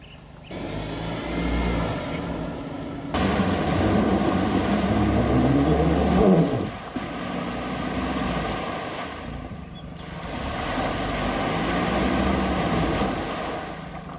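A Mahindra Thar's engine drones steadily as it strains, stuck in mud in the middle of a river, with a continuous broadband roar that surges and dips over about fourteen seconds.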